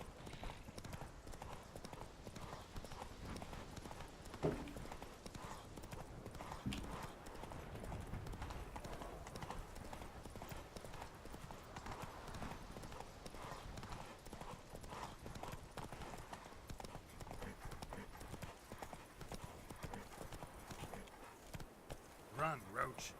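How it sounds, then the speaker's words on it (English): Hooves of a horse galloping in the video game The Witcher 3 beat in a fast, continuous clip-clop rhythm for over twenty seconds, fairly close but soft, with a voice speaking over them. "Run, Roach"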